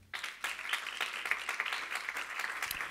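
A church congregation claps for the Lord during a sermon on fasting, a dense patter of many hands sustained for about three seconds, fairly close and steady.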